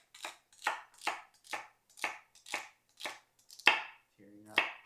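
A knife chops through an onion on a cutting board in about nine steady, evenly spaced strokes, each a crisp close thunk, with a brief voiced sound near the end.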